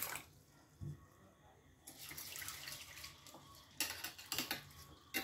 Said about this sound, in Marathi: 2 ते 3 वेळेस आपण तांदूळही धुवून घेणार आहोत, स्वच्छ धुवायचे।